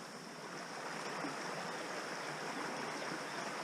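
A river stream flows by the riverbank as a steady, close rushing wash of water that holds even in level with no breaks, and no one speaks.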